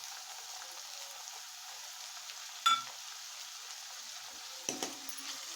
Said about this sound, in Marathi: टोमॅटो आहे ते पूर्ण मेल्ट होईपर्यंत आपल्याला परतून घ्यायचं आहे